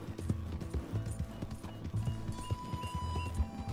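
Horse hooves in Red Dead Redemption 2 pound out a steady, fast clip-clop rhythm close by, layered over low game ambience, with a brief faint tone near the end.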